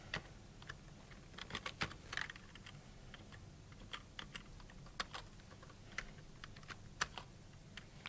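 Typing on a computer keyboard while entering commands on an admin machine, with scattered, irregular key clicks in small bursts, close and fairly quiet with no talking.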